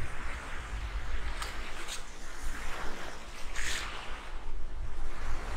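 Sea water at high tide breaking by the shore in light drizzle, a continuous broadband rush of surf with gentle swells and wind noise, fairly close and steady throughout.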